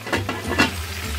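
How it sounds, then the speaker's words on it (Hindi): Chicken cooks in a pot with a soft sizzle broken by a few quick stirring scrapes, close and brief. "ये चिकन पक रहा है"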